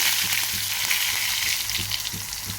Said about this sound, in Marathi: छानपैकी तेल तापलेलं आहे मोहरी घालूयात त्यानंतर जिरे त्यानंतर चेचून घेतलेला लसूण त्यानंतर कढीपत्ता